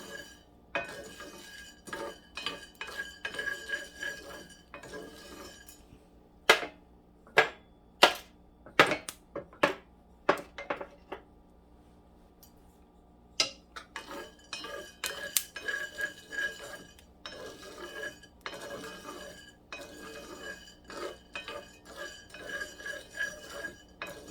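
Sharp, irregular crackling pops from home-roasted coffee beans at second crack, scattered clusters of snaps over a low steady hum, with a brief quieter pause midway.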